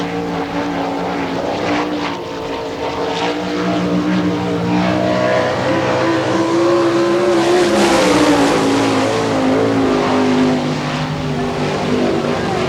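Sprint cars race around the dirt oval at Hartford, Ohio during All Star Circuit of Champions Ohio Speedweek, a loud, continuous engine roar that swells and shifts pitch as cars pass close by.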